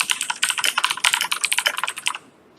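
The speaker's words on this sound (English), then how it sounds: "I am going to type" Rapid keystrokes on a computer keyboard while writing an assembly program, a dense run of close, crisp clicks lasting about two seconds before stopping abruptly.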